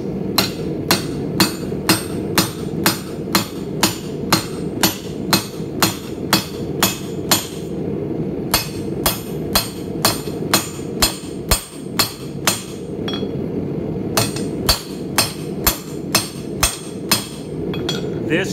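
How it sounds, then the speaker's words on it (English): A hammer forges mild steel bar on the corner of an anvil, sharp ringing blows struck in a fast even rhythm, close and loud, with a couple of brief pauses between runs of strikes. "We begin by forging about 1 1/4 inch down from the end on a half hit over the corner of the anvil."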